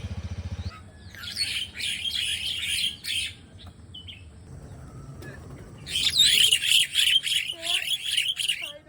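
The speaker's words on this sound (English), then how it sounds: "birds really cute and sound nice." Bali starlings chirp and squawk in two loud bursts of rapid, overlapping calls, close by, with quieter calls, low background rumble and faint talk between them.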